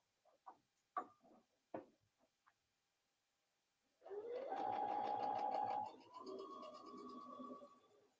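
Scattered handling clicks and taps, then a sewing machine starts up to stitch a dart on a memory bear, with a close, continuous whirring run that eases into a slightly lower, steady hum.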